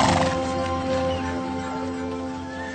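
A horse neighs during a horse-drawn sleigh ride, a clear whinny at the start trailing off, heard close over steady tonal music and background sound.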